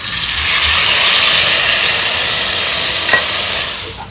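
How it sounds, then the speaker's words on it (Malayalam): Cooked pork goes into a hot pan for a Kerala-style roasted-coconut pork curry, with loud continuous sizzling and stirring and a brief utensil scrape near the end. No voices. "അപ്പൊ നമ്മൾ നേരത്തെ വേവിച്ച് വെച്ച പോർക്കിനെ ഇതിലേക്ക് ഇടാൻ പോവാണ്"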